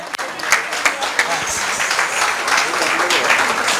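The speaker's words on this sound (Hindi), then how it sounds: "जोरदार तालियां।" Audience applause at a Mahesh Navmi festival gathering, a broad steady wash of clapping with a few sharper claps standing out and some voices mixed in.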